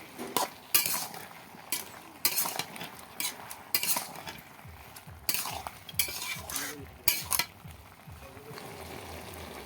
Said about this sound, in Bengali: লাউটা ভালো করে কষিয়ে নেব এখন